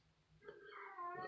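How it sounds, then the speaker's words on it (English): A female cat in heat lets out a drawn-out, wavering yowl in a quiet room, faint and somewhat distant, rising partway through and holding to the end. "I apologize if you hear my cat in the background."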